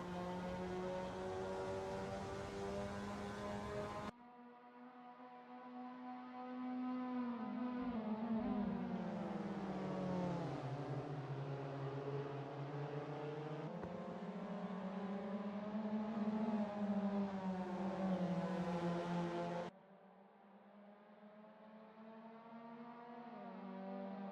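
Mazda MX-5 Cup race cars howl around Harris Hill Raceway in a racing video game, a sustained buzzing engine drone that rises and falls in pitch with gear changes and throttle, loud and continuous without speech.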